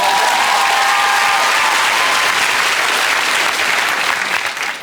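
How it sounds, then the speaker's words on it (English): A large TV studio audience applauds steadily, dense clapping filling the room throughout and tapering slightly at the end. "That's worth another round of applause."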